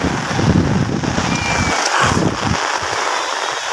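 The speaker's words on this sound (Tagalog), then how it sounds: "Lakas po ng hangin." Strong gusting wind roars across open sea as a storm returns, buffeting the microphone with a dense, continuous rush and low rumble throughout.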